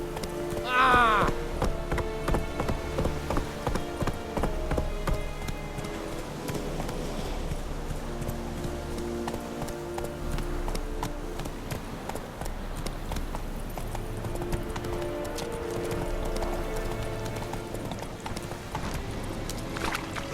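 Roach, the horse in The Witcher 3 video game, gallops with steady, loud clip-clopping hooves under a dense layer of game music and effects, with voices speaking at times.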